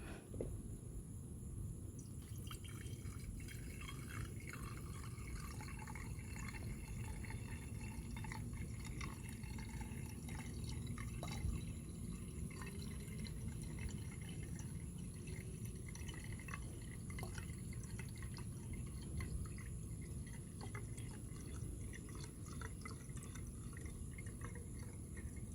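Tiki torch fuel trickles and glugs into a tiki lantern in a faint, close, continuous pour with small dripping splashes, and no voices are heard.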